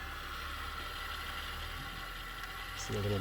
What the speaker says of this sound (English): So the controls, this just turns the motor on.